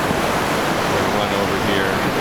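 Mono Creek in the High Sierra on the John Muir Trail, its water rushing as a steady, loud broadband wash close to the microphone, with some wind noise mixed in.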